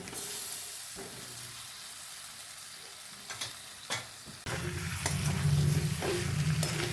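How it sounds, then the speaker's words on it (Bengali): Potatoes frying and being stirred with spices in a pan, a steady sizzle with scraping stirs that grows louder and denser partway through, close and without talk. "মশলা দিয়ে আলু খুব ভালোভাবে কষানো হবে।"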